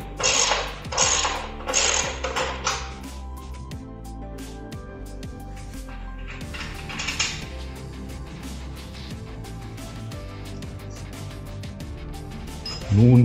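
A 9/16 socket wrench turns out a tank bolt on a Harley-Davidson Street Bob 114 Softail, giving bursts of metallic ratchet clicking early on, then quieter mechanical ticks and clinks, with talk in the background.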